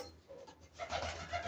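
Soft, close pigeon cooing and fluttery bird sounds on a rooftop loft, faint at first then growing a little louder, with no talking.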